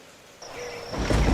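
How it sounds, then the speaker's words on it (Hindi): Rain and wind building into a storm, soft at first and then swelling louder into a broad rushing roar with a faint whistling tone. "आज तो बारिश और हवा और तेज़ है"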